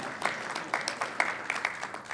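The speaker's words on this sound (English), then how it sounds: "so give them a round of applause" A modest audience at a certification program launch event applauds with sparse, distinct claps that stay fairly quiet and irregular, clustering into an uneven patter over a soft room background.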